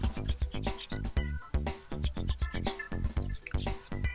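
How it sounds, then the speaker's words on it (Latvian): A nail file rasping along the side of a gel nail in quick, close, quiet strokes, each scrape brief and rhythmic with short pauses between. "Turam vīlīti paralēli vienai malai pret otru un pievīlējam vienu pusīti"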